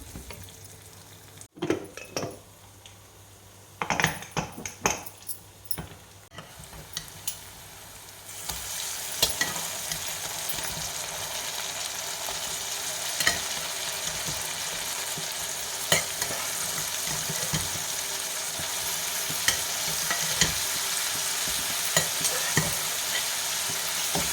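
Cooked mutton frying with ginger garlic paste for mutton chukka: a sparse, quieter start with clanks and scrapes, then a steady, loud frying hiss runs throughout, punctuated by repeated spoon stirs and knocks against the pan.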